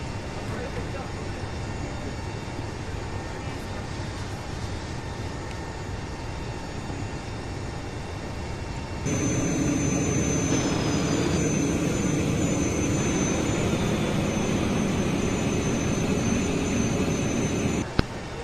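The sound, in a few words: Airbus A380 APU starting up, from video game MSFS 2020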